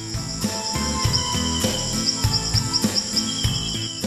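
Locusts in a field give a bright, continuous chirping drone, close and fairly loud, with sharper insect calls repeating over it.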